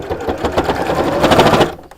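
A sewing machine stitches fabric in a rapid run of needle clatter, close and fairly loud, speeding up briefly before stopping.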